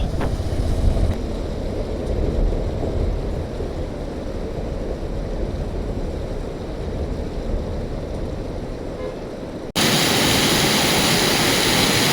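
A roaring waterfall on a mountain route in Uttarakhand, a steady broadband rush of falling water, loud and continuous with wind buffeting the microphone and no talking.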